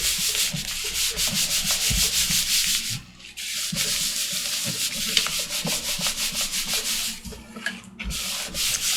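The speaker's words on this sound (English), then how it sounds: "Okay, just gonna rub that out." An eraser rubs out pencil marks on paper in an art journal, giving brisk repeated back-and-forth scrubbing strokes, close and fairly loud, with two brief pauses.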